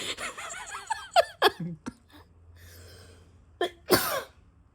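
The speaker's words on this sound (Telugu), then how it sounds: "దగ్గొచ్చింది." A few short coughs and throat-clearing bursts break between brief talk, then a louder cough near the end, close to the microphone.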